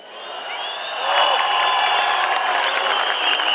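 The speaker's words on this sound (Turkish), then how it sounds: "Lütfen bütün çiftçilerimizi ve üreticilerimizi lütfen hep beraber alkışlayalım." A large crowd at a Turkish political rally applauds farmers and producers, clapping rising to a loud, dense swell with cheers and whistles sustained throughout.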